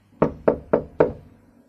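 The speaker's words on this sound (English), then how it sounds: "There was no reply, so I knocked again." Four evenly spaced knocks on a wooden door in a corridor, firm and close, each with a short resonant decay, heard alone against quiet.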